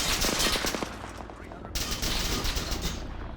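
Gunfire in the video game Arma 3 during an alternate-history Second Falklands War battle, a burst of rapid shots followed by sustained rattling fire and distant booms, loud and close.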